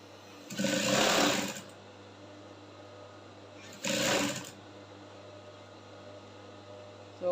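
A sewing machine back stitches fabric over wire mesh petals in two short whirring bursts separated by a low steady hum, close and fairly quiet.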